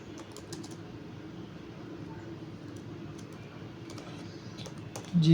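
Computer keyboard typing an HTML doctype, with light scattered key clicks over a steady low background hum, fairly faint and close.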